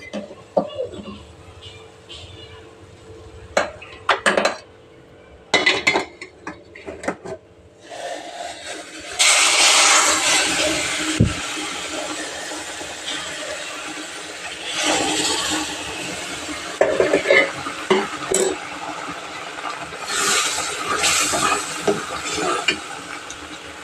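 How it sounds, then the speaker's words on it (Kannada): Hot milk being mixed into roasted semolina in a pan, with sharp sizzling and hissing bursts followed by stirring and bubbling, loud and close, with scattered clatter of utensils. "ಈಗ ರವೆ ಹುರ್ಕೊಂಡಿದ್ದಾಗಿದೆ, ಹಾಲು ಕಾಯ್ತಾ ಇದೆ. ಅದನ್ನು ಇದಕ್ಕೆ ಮಿಕ್ಸ್ ಮಾಡ್ಕೊಳ್ಳೋಣ."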